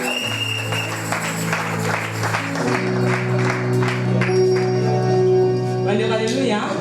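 A church congregation claps and cheers to acclaim the Lord, with dense rhythmic applause and raised voices over sustained organ or keyboard chords, loud and full throughout.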